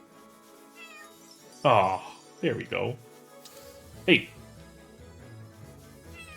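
A cat in the video game Chained Echoes lets out three short meows over quiet game music, the last one higher and sharper, while a person speaks briefly.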